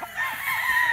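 A pure white Kelso gamefowl rooster at a game farm gives a short crowing call, a single brief, strained, tonal burst heard up close and fairly clear.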